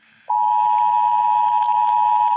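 A single loud, steady electronic alert tone from the Emergency Broadcast System starts abruptly and holds without a break, a pure sustained beep with no speech.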